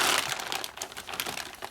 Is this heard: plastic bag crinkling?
yes